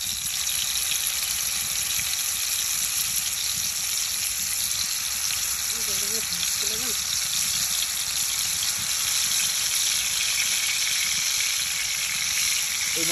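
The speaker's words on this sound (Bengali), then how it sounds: "মাছ ভাজা শুরু।" Pangas fish frying in a pan on a stove gives a loud, close, unbroken sizzle that runs the full length, with a faint brief sound rising near the middle.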